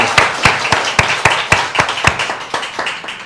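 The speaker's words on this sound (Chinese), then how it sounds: "咱用这个掌声，将一切恩光归咱主耶稣" A congregation at a Presbyterian church's Taiwanese-language Sunday service claps in a steady, even rhythm, about three claps a second, close and loud throughout with no talk over it.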